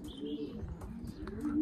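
Racing pigeons coo softly in a loft, low throaty calls repeating under faint background chirps and light rustling, fairly quiet and close.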